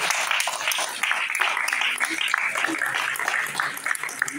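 An audience at the opening speech of the first Salon du livre in La Bouilladisse applauds Jean-Marc Ponce with steady, dense clapping throughout. A few voices and a chuckle can be heard under the applause.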